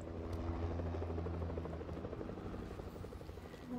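A video-game helicopter hums steadily throughout, its low rotor drone and engine buzz carrying at an even level with a slight flutter, alone without any talking.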